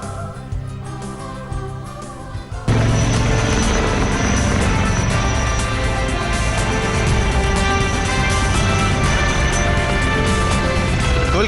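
An Indian Air Force Mi-17 helicopter flies overhead during a flower-shower salute; its rotor and engine noise surges in abruptly after a quieter start and stays loud and steady.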